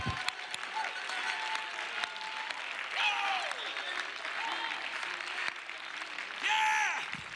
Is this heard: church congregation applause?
yes